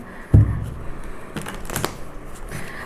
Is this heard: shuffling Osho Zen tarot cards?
yes